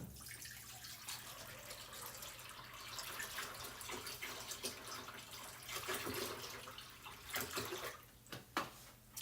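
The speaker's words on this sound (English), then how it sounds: "Put a little fresh water in here." Water runs steadily from a tap into a container while rinsing craft supplies, a continuous close splashing flow with small changes in pitch and a few sharper splashes near the end.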